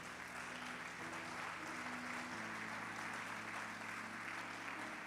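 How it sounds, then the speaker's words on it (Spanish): Church congregation applauding, a steady wash of many hands clapping throughout, with a low hum underneath. "Demos un aplauso a estos muchachos."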